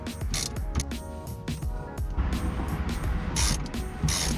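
Rapid clicking ratchet strokes loosening 10 mm bolts on a Mazda Miata, close and loud, in short repeated bursts with brief pauses between pulls.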